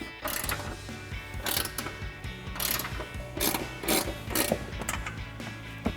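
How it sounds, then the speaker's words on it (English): 18mm ratcheting wrench loosening a control arm bolt on a 2010-2014 Mustang: a close, rhythmic ratchet clicking in repeated bursts as the handle is swung back and forth, steady throughout with no talk. "I'm gonna grab my 18mm ratcheting wrench and keep working that out"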